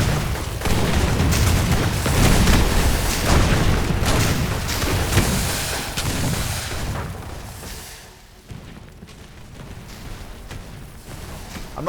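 Heavy booming gunfire from airship battles in the strategy game Airships: Conquer the Skies, a dense, loud barrage of overlapping cannon blasts for most of the stretch, thinning toward the end.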